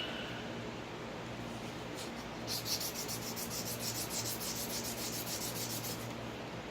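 A shop rag rubbing back and forth on a 1911 pistol barrel, a soft hissing scrub that quickens into rhythmic strokes partway through, quiet and close with no talking.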